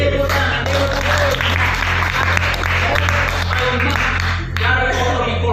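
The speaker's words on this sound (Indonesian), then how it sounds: "Tepuk tangan, tepuk tangan." A classroom of students bursts into steady applause, dense, sustained clapping close by that fades off near the end, with voices mixed in underneath.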